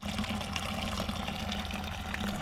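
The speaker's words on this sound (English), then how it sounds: "So the nice thing I really like is this drain. It's really fast." Cleaning solution rushes steadily out of the drain of a Harbor Freight 6L ultrasonic cleaner, a continuous close gushing of liquid with no pauses.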